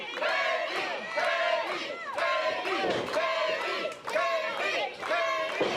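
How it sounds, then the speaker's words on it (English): Wrestling crowd cheering and chanting behind a wrestler, loud rhythmic bursts of massed shouting rising and falling in repeated waves, close and dense throughout. "Crowd getting behind him."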